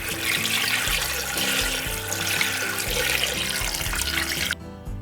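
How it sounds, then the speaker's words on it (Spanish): Tap water runs steadily into a pot of rinsed chicken feet being prepared for broth, a continuous close splashing gush that cuts off abruptly near the end. "vamos a agregar agua"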